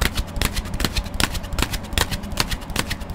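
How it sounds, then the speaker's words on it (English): Tarot cards are shuffled by hand in quick, crisp riffles and slaps, a steady close-up rhythm of papery bursts without any talking. "So let's do a few seconds of shuffling here to see what's going on with you in love."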